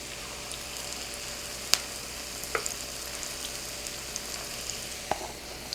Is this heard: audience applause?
no